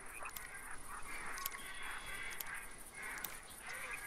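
Flock of ducks calling in the hunting game theHunter 2017, a dense, steady chorus of honks and quacks from many birds at once, with no talking.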